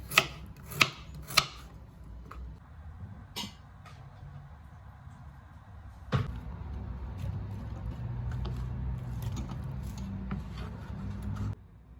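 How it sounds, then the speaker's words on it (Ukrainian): Vegetables such as pepper, carrot and zucchini are cut into large pieces on a board. A few sharp, separate knife chops come first, then a quieter stretch of scraping and cutting continues up close. "Я деякі овочі крупно ріжу навмисно"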